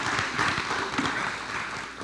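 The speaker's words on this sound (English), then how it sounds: "give her a round of applause" Applause from an audience at a gathering, a continuous broadband patter of clapping lasting throughout, fairly loud and close.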